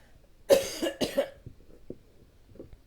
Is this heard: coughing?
yes